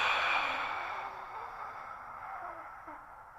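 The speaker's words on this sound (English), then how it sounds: "And then exhale for 3 to 5 seconds." One slow, breathy exhale during a core breathing exercise, loud at first and gradually fading over a few seconds, with no speech.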